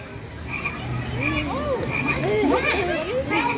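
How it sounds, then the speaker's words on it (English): A frog croaks in a swamp setting at a Sesame Street theme park, a loud run of warbling, rising and falling croaks close by, with light voices and background bustle underneath. "Sounds like a little green frog just loving life in the swamp."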